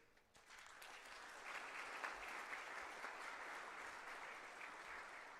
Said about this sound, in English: We also welcome you with a thunderous applause.